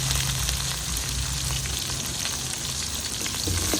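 Crushed small onions frying in hot oil with fennel seeds, a dense continuous sizzle up close, steady and loud with no voices.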